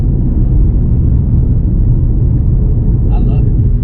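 A Ford Mustang GT500 engine pulls hard on a hot day, giving a steady, loud, low rumble that holds constant throughout.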